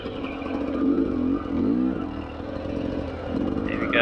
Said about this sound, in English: you could also hear the throttle like gave it definitely a lot more pepper